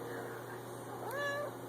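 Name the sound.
cat meowing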